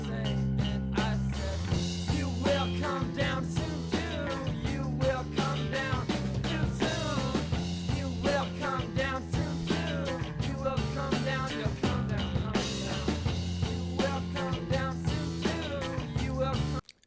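An indie rock band plays with driving drums, bass and guitars and a retro 1980s feel, steady and full throughout.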